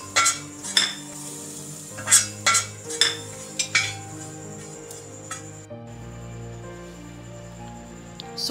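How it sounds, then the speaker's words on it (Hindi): Fennel and cumin seeds frying on a tawa for beef nihari, with a series of sharp metallic scrapes and clinks from a spatula over a faint sizzle, close by, then a quieter steady stretch with no talking. "यहाँ तवे पर सौंफ और जीरे को मैं 2 से 3 मिनट के लिए फ्राई कर लूंगी।"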